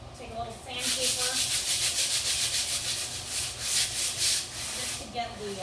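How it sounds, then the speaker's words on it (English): Sandpaper rubs over a painting in quick, steady back-and-forth strokes, a close, rhythmic scratchy hiss that lasts several seconds. "I just take a little sandpaper"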